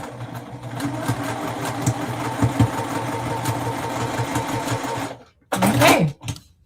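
Juki sewing machine running in a steady, close mechanical whir for about five seconds, then stopping, followed by a brief louder clatter and some handling noise.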